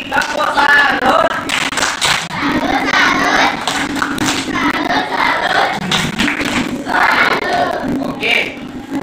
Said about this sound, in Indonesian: tepuk salut nih, tepuk salut.